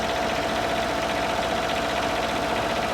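A Kohler KDW generator engine holds a steady 1800 RPM, a close, even, continuous drone with a constant pulsing rumble and no voices.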